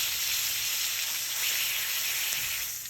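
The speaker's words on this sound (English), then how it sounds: "Get a nice sear on the one side for 2 minutes" A striploin steak sears in a hot pan, giving a steady, loud, close sizzle with a bright hiss that holds level for the whole stretch and fades slightly at the end.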